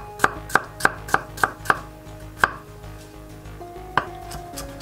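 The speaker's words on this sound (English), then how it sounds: "I'm gonna slice it very," A knife slices fresh ginger on a board with about eight crisp, close chops in a steady rhythm, then two isolated cuts, with a faint kitchen hum between strokes.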